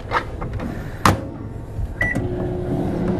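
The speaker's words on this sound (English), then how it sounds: "open the microwave oven, set it in the oven, leaving the bag open" A microwave oven door is opened and a bagged syringe set inside, giving a few sharp clicks and knocks, then a short beep-like tone partway through, with a low steady hum after. There is no talking.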